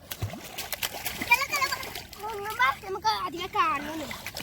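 Children's voices shout and chatter playfully while water splashes around them in short bursts.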